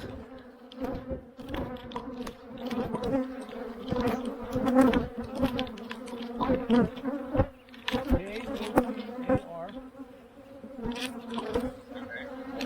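Honey bees swarm around a hive in a dense, continuous buzz with steady wing-drone tones, loud and close, with individual bees zipping past the microphone throughout.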